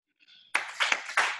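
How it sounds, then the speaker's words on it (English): A live audience claps in two sharp, loud bursts at a youth sports parents' talk, the crowd's hands striking together in near unison, with a faint murmur before the first clap. "Can I get 2 claps?"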